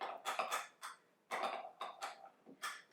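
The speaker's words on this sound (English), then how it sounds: "Stir this up." Poppy seeds, diced Italian parsley and green onions are stirred in a bowl, giving a series of irregular scraping and clinking strokes, close and fairly quiet, in short bursts with brief pauses between them.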